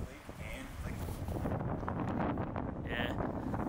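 Strong wind buffeting the microphone with a low, continuous rumble outside an abandoned lakefront house, while a person talks faintly underneath.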